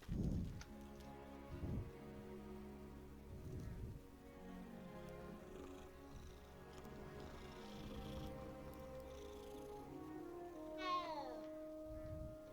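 A cat meows repeatedly in the Hogwarts Legacy video game, a few clear close cries spread across the stretch over soft ambient game music and background rain, with no talking over it.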